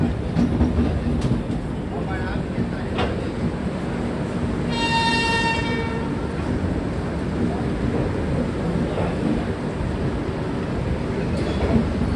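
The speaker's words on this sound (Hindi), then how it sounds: "हमारी ये सुपर फास्ट दुरंतो एक्सप्रेस पहुंच चुकी है" A Duronto Express train pulls into Asansol Junction station with rumbling wheels and rail clatter, while a loud horn blast sounds partway through over the continuous station din.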